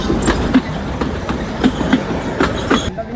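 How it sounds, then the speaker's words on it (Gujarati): An old train pulls into a station, its wheels clicking over rail joints in an uneven rhythm of loud knocks against a steady rumble, then cutting off sharply near the end. "ટ્રેન આવી ગઈ છે અને આપણે પણ નીકળીએ"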